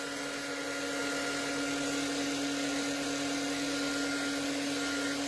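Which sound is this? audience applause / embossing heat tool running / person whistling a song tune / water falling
embossing heat tool running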